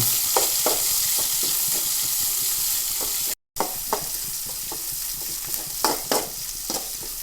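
Chopped onions fry in a pan for Mangalore-style prawn sukka, a close, steady sizzle broken by regular stirring scrapes and taps, with one brief dropout midway.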